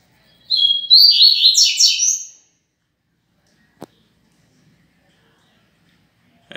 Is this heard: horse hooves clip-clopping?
no